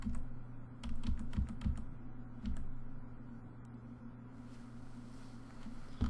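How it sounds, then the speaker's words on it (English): Arrow keys on a computer keyboard are tapped in a quick burst of sharp clicks, then a few scattered presses, close and fairly quiet over a low steady hum, with no talking. "just use your up, down, left, right arrow keys and it'll jog it into place"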